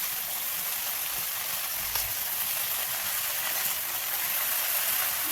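Dill greens (shepu bhaji) stirred and frying in a pan, a dense, even, close-up sizzle and hiss with occasional faint scrapes, no speech.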